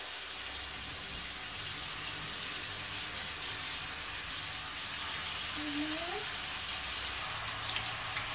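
Beef seekh kebabs go one by one into hot oil in a grill pan, giving a steady, close sizzle that fills the whole stretch without letup.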